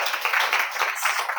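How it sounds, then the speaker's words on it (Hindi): Brief, enthusiastic applause from an audience for people being congratulated at a seminar, a dense patter of clapping close by, with no talk over it. "जोरदार तालियां इनके लिए"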